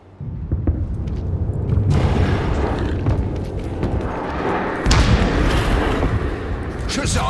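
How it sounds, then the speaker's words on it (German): Gunshots and heavy explosions from the video game Middle-earth: Shadow of War, with a battle against a siege beast: booming blasts and sharp cracks over a constant roaring din, with voices speaking over the combat. "Schüsse auf den Sprengstoff sollten die Bestie erledigen."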